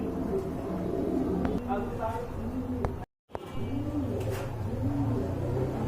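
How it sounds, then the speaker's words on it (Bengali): Pigeons coo repeatedly nearby in soft, low rolling calls, with a voice talking intermittently and a brief dropout midway. "আর এখানে কিন্তু আরেক জোড়া কবুতর আছে"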